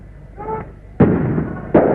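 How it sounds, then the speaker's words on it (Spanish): Tear gas grenade launchers fired by police at rioting students and workers in Córdoba, Argentina, 1969: two sharp, loud blasts about three-quarters of a second apart, each trailing into a rumbling decay, after a faint tonal sound. "la policía contesta con disparos de bombas de gases lacrimógenos"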